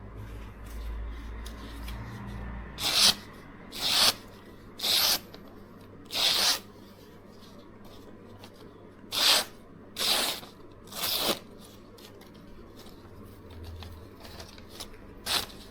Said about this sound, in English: I want to sharpen more knives on it actually.